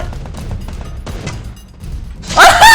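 Gunfire from the Free Fire mobile shooter: scattered muffled shots early on, then a loud, bright burst of firing with ringing effects at the end, with no clear talk.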